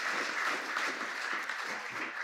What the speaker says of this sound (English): and I better get some applause.